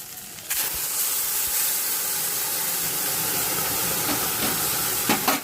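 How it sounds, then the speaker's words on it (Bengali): Hot water poured into a pan of frying chana dal masala with turmeric and salt, giving a sudden loud steamy hiss and sizzle that holds steady, with a few clinks near the end, no talk. "এখন গরম জল দিয়ে দেবো।"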